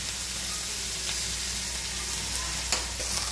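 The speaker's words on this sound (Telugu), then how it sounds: "ఇప్పుడు అట్లా పచ్చిమిరపకాయలు కూడా మొగ్గాలి కదా, అవి కూడా వేసేసేది." Onions and green chillies sizzle steadily in a hot pan, a continuous quiet frying hiss with a few soft stirring clicks and no voices.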